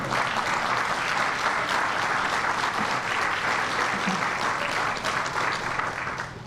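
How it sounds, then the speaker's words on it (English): A hall full of people applauding at a Chicago city recovery plan announcement: dense, even clapping that holds steady throughout and tapers slightly at the very end. "You can clap for that."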